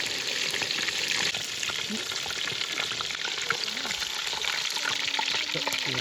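Goldfish frying in a pan outdoors beside a waterfall, with a steady, dense sizzle of hot oil running throughout, loud and close, with faint scraping stir sounds and a continuous rush of falling water beneath.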